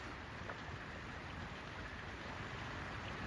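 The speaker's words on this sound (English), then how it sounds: "this is like a hurricane rainstorm in Boise" A heavy rainstorm in Boise, Idaho makes a steady, even hiss of falling water. It is faint and distant, with no voices.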